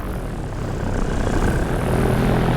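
A propeller airplane engine drones overhead at a paramotor flying site, a steady, loud rumbling hum that swells slightly as it passes.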